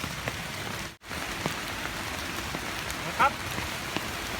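Rain patters steadily on leaves and surfaces in a forest during mushroom picking, a close, even hiss of drops with a brief dropout and a short bump partway.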